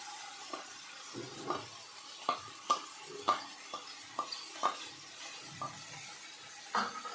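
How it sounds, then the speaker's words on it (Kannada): A ground paste of onion, ginger, garlic and coriander frying in a pan gives a soft steady sizzle, broken by repeated scrapes and taps of a spoon stirring against the pan, close and with no talking. "ಇವಾಗ ಈರುಳ್ಳಿ, ಶುಂಠಿ, ಬೆಳ್ಳುಳ್ಳಿ, ಕೊತ್ತಂಬರಿ ಇಷ್ಟು ರುಬ್ಕೊಂಡಿದ್ದು ಪೇಸ್ಟ್ ಹಾಕ್ತಾಯಿದ್ದೀನಿ."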